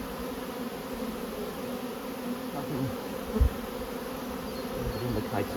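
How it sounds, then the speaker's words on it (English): Steady low buzzing of many honey bees in a nucleus hive fills the clip, a dense continuous hum with a brief louder thump partway through. "Still plenty of bees in here"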